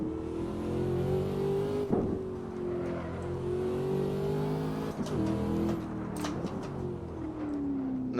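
A supercharged car in Assetto Corsa, the blower whining steadily over a loud, continuous engine drone that holds for several seconds, with brief gear-shift dips and bumps along the way.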